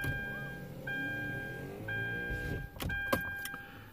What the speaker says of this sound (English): so I'm going to put this window up here.